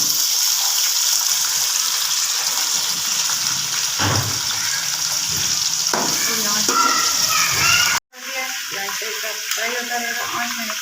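Chicken pieces fry in masala in a pot over raised heat, a steady loud sizzle with stirring scrapes, broken near the end by a sudden cut and then a quieter, crackling simmer.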